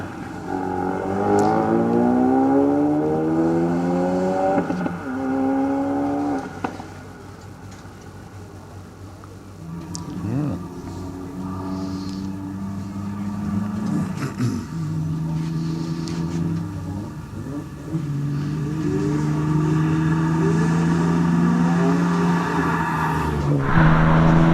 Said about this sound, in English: he'll be followed by Craig Dana's Nissan Skyline